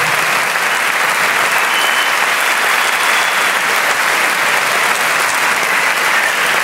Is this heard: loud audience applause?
yes